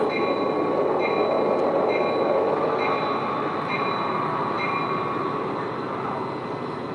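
A train in a railroad video game rumbles past steadily and loudly for several seconds, its broad mechanical roar holding with a faint repeating clatter before easing slightly toward the end.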